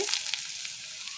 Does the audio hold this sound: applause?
no